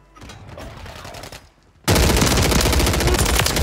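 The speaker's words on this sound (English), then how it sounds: "They're getting shot from four different rooftops." Call of Duty: Warzone gunfire from several rooftops: scattered distant shots, then a sudden, very loud, sustained burst of rapid automatic fire close by.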